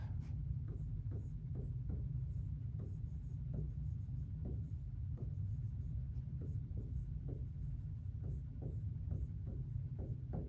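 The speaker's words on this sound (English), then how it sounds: "I'm going to write it up here on the board." Chalk or marker taps and strokes on a classroom board as a short sentence is written, a quiet rhythmic series of light ticks over a low steady hum.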